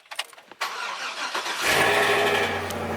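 A crew cab truck with a questionable battery or alternator cranks briefly with clicking and whirring, then catches and settles into a steady close idle.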